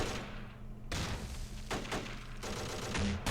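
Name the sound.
gunfire in video game Close Combat: Modern Tactics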